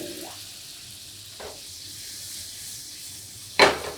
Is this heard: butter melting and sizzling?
yes